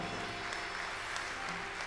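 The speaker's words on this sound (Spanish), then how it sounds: "Denle un fuerte aplauso al Señor." A church congregation applauds the Lord at an anniversary service, a soft, distant wash of clapping that stays even and continuous, with a low steady hum underneath and no voices on top.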